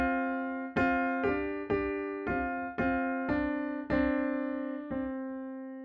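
Two melodic lines sound in clear, evenly spaced notes, one line holding steady while the other moves until both meet on a single unison pitch; roughly nine sustained, piano-like attacks, close and moderately quiet, with no talking.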